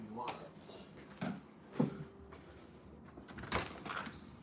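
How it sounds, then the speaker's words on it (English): A house door opened for an arriving visitor, heard as a few soft thumps, a brief scrape and a sharper knock or latch sound against quiet room noise, with a voice speaking near the start. "Hold on, somebody's at the door."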